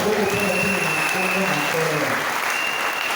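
Church congregation applauding steadily and loudly throughout, a dense continuous clapping wash with crowd noise mixed in.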